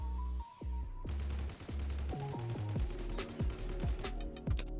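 An L86 LSW light machine gun in the Roblox game Jailbird Remastered fires loud, rapid bursts of shots, separated by short pauses and fading echoes; a steady electronic tone is audible briefly before the firing starts.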